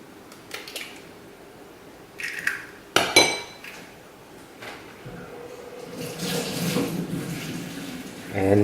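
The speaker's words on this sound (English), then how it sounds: "Now what I'm going to do now is to add the egg." An egg added to a kimchi pancake mixture in a bowl: a few clinks of utensils against the bowl and a sharp crack, followed by soft wet squishing and stirring, close and quiet without talking.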